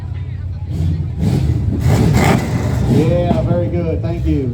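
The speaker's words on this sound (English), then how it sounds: "Can I hear your Plymouth, please?" Plymouth engine revving during a classic car parade at the Daniel Boone Festival, a steady low rumble rising in bursts close by, with people talking over it throughout.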